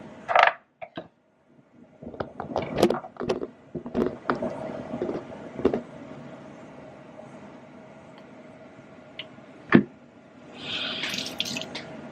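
Tap water runs steadily while something is rinsed under it, with clattering knocks and bumps against the sink in the foreground and a brief hissy splash near the end.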